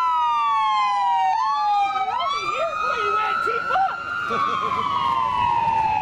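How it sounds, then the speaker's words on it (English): An ambulance siren wails loudly and continuously, its pitch rising and falling in long sweeps, with voices talking faintly underneath. "I think the ambulance is coming for that."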